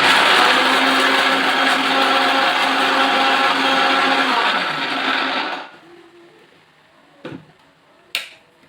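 Blender grinding peanuts, a loud steady whirring motor for about five seconds that then winds down and stops, followed by a couple of brief knocks.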